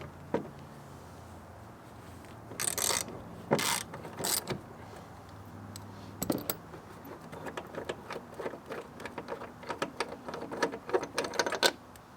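A ratchet driving a T50 Torx bit loosens bolts on a 7.3 Powerstroke diesel fuel system, giving bursts of rapid mechanical clicking with short pauses, fairly close and with no talking.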